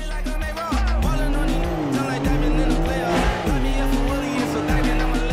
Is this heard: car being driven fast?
yes